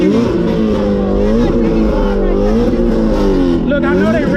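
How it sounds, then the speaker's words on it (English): Loud car engines rev at a car meet, a sustained roaring drone with rising and falling pitch swells, close and continuous, with people talking underneath. "Look, I know they revving real loud."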